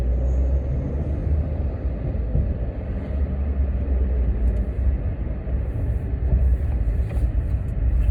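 A Porsche 911 drives on a track course, its engine a steady, loud, low rumble throughout with no pauses.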